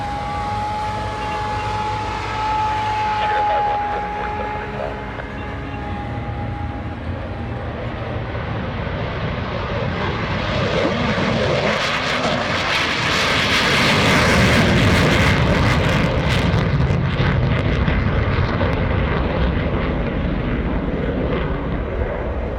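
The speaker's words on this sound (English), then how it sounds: "Enemy aircraft is taking off to attack the F-22." A military jet playing an enemy aircraft takes off during a joint forces demonstration at the 2021 Arctic Lightning Airshow, its engine whine building into a loud, broad roar that swells mid-clip and stays heavy to the end, with no talk over it.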